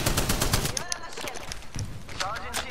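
Rapid bursts of gunfire from a weapon in the battle-royale shooter Apex Legends, loud and close, mixed with overlapping voices and game effects.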